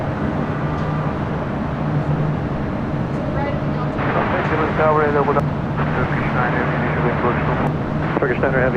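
A Hawaiian Airlines jet on approach from Honolulu rumbles steadily at a distance at LAX. The engine roar is broad and continuous, and radio chatter and voices can be heard over it.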